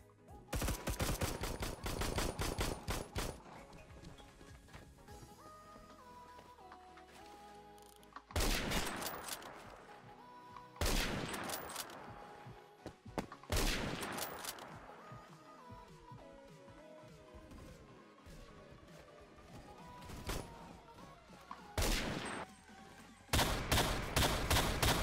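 Assault rifle fire in the Roblox game Phantom Forces, with rapid automatic bursts and sharp single shots cracking in clusters, separated by quieter gaps and trailing echoes.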